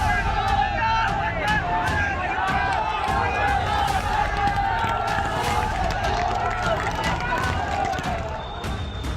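A protest crowd in Moradabad shouts Allahu Akbar slogans in loud, dense, rhythmic chanting, with sharp claps or bangs throughout.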